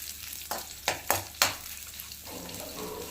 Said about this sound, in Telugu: కొంచెం కరివేపాకు వేసుకొని ఒక్కసారి కరివేపాకుని ఇలా కలయబెట్టేసి